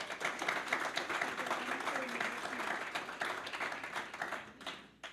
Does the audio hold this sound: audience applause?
yes